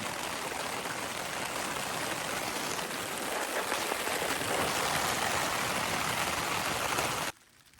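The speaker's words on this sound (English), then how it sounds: "So this is a phantom rain." Steady, dense rain patters on a tarp at night, a broad even hiss holding for about seven seconds before cutting off abruptly.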